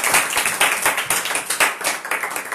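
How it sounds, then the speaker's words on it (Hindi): Listeners at a church gathering clap loudly to welcome a pastor, with rapid, uneven hand claps in a brisk, slightly rhythmic burst close by. "आपकी जोरदार तालियों में।"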